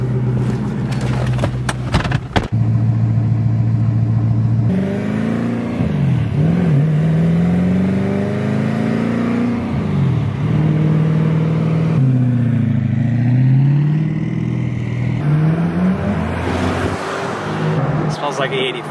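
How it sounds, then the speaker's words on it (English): An 850 hp Gintani twin-turbo BMW E92 M3 on E85 fuel accelerates at full throttle, its loud close engine note climbing repeatedly through gears with brief dips at each shift, after a short burst of rough mechanical rattling. "I need a full throttle pull."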